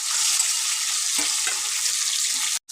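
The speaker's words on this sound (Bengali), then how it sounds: "এবার আমি আলুর সাথে ভেজে নেবো, আলুটাকে ভেজে নেব।" Boiled potatoes frying in oil in a pan, a loud close sizzle with a couple of soft stirring knocks, cutting out abruptly near the end.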